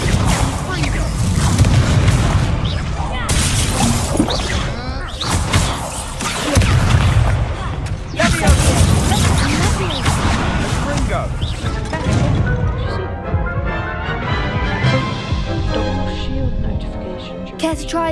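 In the video game Hogwarts Legacy, Confringo explosion spells go off as repeated booming blasts and crashing impacts, dense and loud, and voices speak over the noise.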